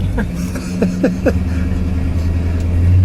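A 1964 Mercury Park Lane Marauder, a Ford Motor Company car, idles with a low, steady engine rumble heard from inside the cabin, under brief voices and movement.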